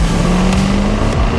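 A deep, powerful supercharged V8 engine of a Jaguar XKR-S GT drones loudly and steadily, a close, continuous roar with a slight rise in pitch.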